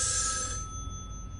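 A telephone rings in the mobile game Erica, played on an iPhone, with one short ring that cuts off after about half a second and leaves a low ambient rumble.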